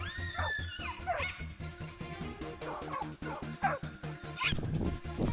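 Hunting dogs bark, yip and whimper at a wild boar in rough country, a rapid series of repeated barks and whines that sound fairly close and fill the whole stretch.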